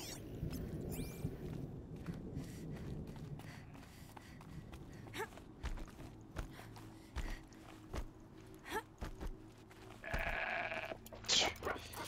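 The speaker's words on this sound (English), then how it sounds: "so many fucking goats here" Goats bleating in the video game Horizon Zero Dawn: Frozen Wilds, several animals calling over a low ambient bed with soft footsteps, the bleats growing more frequent and closer toward the end.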